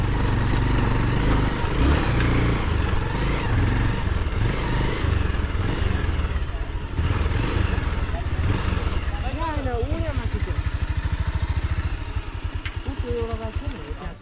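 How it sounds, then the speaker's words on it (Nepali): Two motorbikes run close by on a mountain route to Pathivara in Taplejung, their engines thrumming steadily for the whole stretch, with people talking over the engine noise. "दुईटा बाइक हो"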